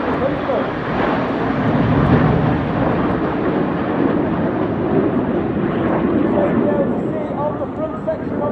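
A formation of display jets at the Eastbourne air show roars overhead in a loud, broad, sustained rush of engine noise that swells and slowly fades, while a commentator talks over it.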